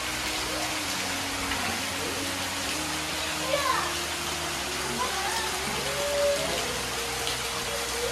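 Steady rain falls outdoors as a dense, even hiss lasting throughout, with distant voices and a few faint calls carrying faintly underneath.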